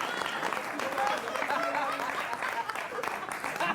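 Audience applause at a live stage comedy performance: steady, dense clapping that fills the whole stretch, with voices carrying over it.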